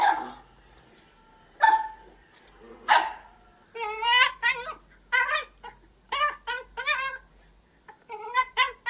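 Dog inside a house, sharing the space with cats, gives a few loud yelps and barks early on, followed by a run of rapid whining, whimpering calls in close succession, all near and without talk.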